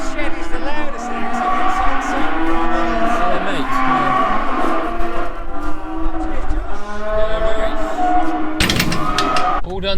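Cattle moo loudly inside a noisy farm shed, many overlapping bellows and lows that fill the space almost continuously, with a sharp clatter near the end.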